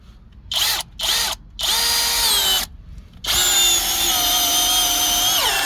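Forte 45 Nm cordless brushless screwdriver driving a screw into a wooden board: three short whirring bursts, then a long steady run near and loud, with the motor pitch sagging as the screw bites.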